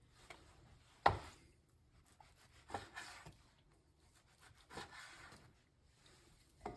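Knife cutting pork into small bits on a board in a home wok-cooking kitchen, a few sparse, quiet chops and scraping rubs spaced irregularly, close and faint.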